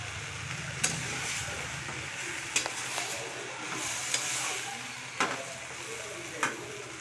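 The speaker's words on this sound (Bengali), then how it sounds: "মশলাটা দেওয়ার পরে একটুখানি জাস্ট আমি নাড়াচাড়া করে নেবো" Spices sizzling and frying in a pan while a spoon stirs them, with steady hiss and a few sharp scrapes against the pan at intervals.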